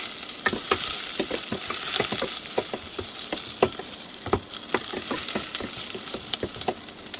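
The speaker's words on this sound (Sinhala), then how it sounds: "ඊට පස්සේ ලුණු ටික මුලින්ම දාගමු" Onions fry in a pan with a constant hissing sizzle, punctuated by irregular clicks and taps of stirring, close and fairly loud, with no talking.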